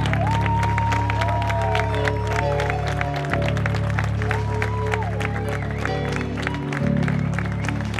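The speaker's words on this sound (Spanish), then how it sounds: "¡Fuerte aplauso para ella!" An outdoor crowd at the awards ceremony of a first 10k race at La Vinosilla claps steadily for a runner over a constant background hum, with some voices mixed in.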